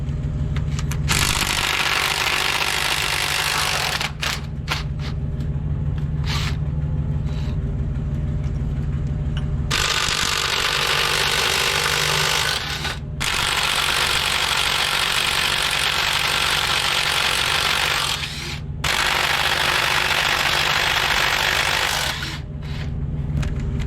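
Bolts come out of a 1957 Autocar semi truck transmission: a loud, harsh mechanical noise runs in long continuous bursts with brief pauses between them, close and steady.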